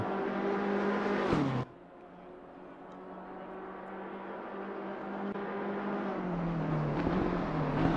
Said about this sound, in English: I'm going to move over to Rob in the 331 BMW